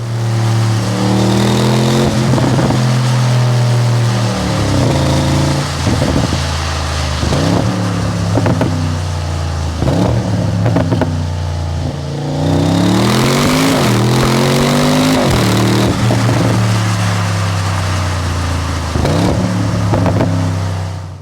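An Audi RS7 Performance engine revs repeatedly, rising and falling in loud, close pulls with a deep rumble between rises and a longer sweeping climb midway.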